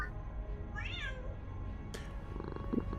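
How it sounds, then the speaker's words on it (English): A single short cat meow, fairly soft, rises and falls early on over a dull rumbling background, followed by faint clicks and knocks. "Let the cat out."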